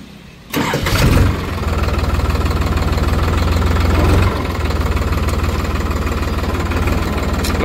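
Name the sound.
New Holland 3630 TX Super Plus tractor engine starting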